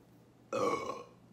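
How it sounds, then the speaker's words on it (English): After a sip of White Claw hard seltzer, a single loud, close burp rings out for about half a second and then trails off, with no talking. "Most beers don't make me burp that loudly, but this carbonated water"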